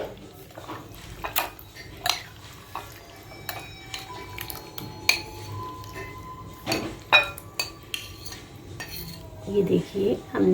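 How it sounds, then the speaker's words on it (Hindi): Metal spoon scraping and clinking against a pan while chicken liver is mixed with coriander, garam masala and spices, with irregular close knocks and scrapes throughout and a soft sizzle near the end. "ये देखिए हमने कलेजी को ऐड कर लिया। अब इन सबको हम मिक्स कर लेंगे।"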